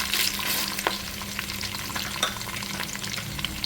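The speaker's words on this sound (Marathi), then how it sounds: "शेंगदाणे टाकते आणि भाजलेली चण्याची डाळ" Peanuts and roasted chana dal frying in hot oil with curry leaves for a Diwali poha chivda, a constant close sizzle with scraping stirring strokes throughout.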